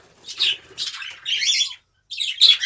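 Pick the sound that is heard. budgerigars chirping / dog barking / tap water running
budgerigars chirping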